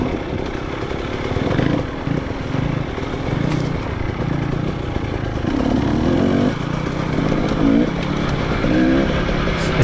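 An off-road enduro motorcycle grinding over rocks in the mountains, its engine droning continuously and revving up and down in short surges, close and loud throughout.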